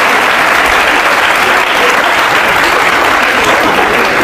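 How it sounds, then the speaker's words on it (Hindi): Studio audience applause at a televised courtroom-style talk show, loud, dense and continuous clapping from a large crowd throughout, with no pauses. "ताली बजाओ मेरे लिए यार।"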